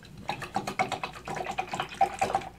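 Water runs steadily from a tap during rinsing, a continuous splashing flow with small clinks and bumps on top, close by and moderately quiet, with no talking.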